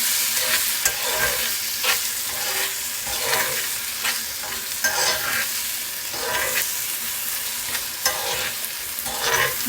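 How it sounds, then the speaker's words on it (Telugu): Radish chutney stirred and fried in a hot pan, repeated scraping strokes over a constant sizzle, close and fairly loud, without speech. "ఇప్పుడు మనం ఈ చట్నీని దీంట్లో వేసేసి కలిపేయటం అంతే."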